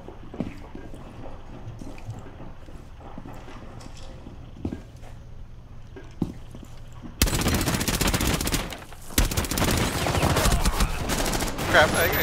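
Gunfire in Rainbow Six Siege on the Kafe Dostoyevsky map, a team deathmatch round: a quieter stretch of scattered sharp shots gives way to a loud, dense burst of rapid fire that fills the second half.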